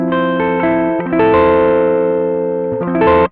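Electric guitar on its center pickup position, running through a buffered Klon KTR overdrive pedal, rings out in several bright, sustained overdriven chords with a fresh strike near the end, close and loud, no voices.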